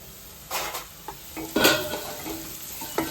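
Onions frying in oil in a pan for a catering-style drumstick and cashew curry, with scattered stirring scrapes and clinks of a utensil over a soft background sizzle, no talk.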